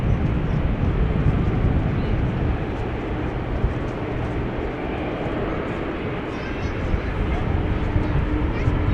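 A Boeing 767 on the move at Amsterdam Schiphol Airport, a continuous heavy low jet rumble filling the air at a distance, steady for several seconds with faint wind and background noise.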